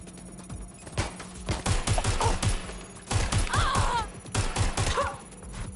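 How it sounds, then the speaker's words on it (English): Rapid bursts of gunfire in the Watch Dogs Legion video game, several loud volleys of shots separated by short pauses, with game effects and brief chirps mixed in. "Shots fired! Shots fired!"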